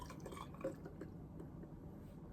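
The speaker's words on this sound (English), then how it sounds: "Let's pour it in." A drink is poured into a glass, giving soft liquid trickling and dripping sounds with one small clink. It is quiet and close, and no one talks.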